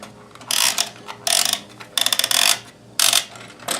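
A Kenmore 158.1914 monogrammer sewing machine runs in four short mechanical bursts of rapid, ratcheting stitching, each lasting about half a second and separated by brief pauses.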